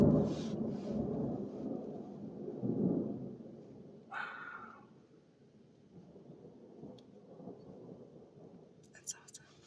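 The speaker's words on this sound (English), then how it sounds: "listening to the rain and the thunder" Thunder rolls and rumbles during a thunderstorm at a campsite, with low booming swells early on and a sharper crack partway through, fading into softer rain and distant grumbles.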